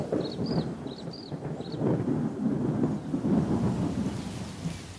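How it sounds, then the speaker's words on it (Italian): Low, rolling thunder rumbles through a grey evening sky as a storm ends the dry season on the African savanna, a sustained deep roar with a few bird calls chirping faintly above it. "il rombo di un tuono segnala la fine della stagione secca."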